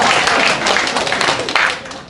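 Brief burst of audience applause at a Peace Corps presentation, dense clapping that starts loud and gradually thins out over about two seconds.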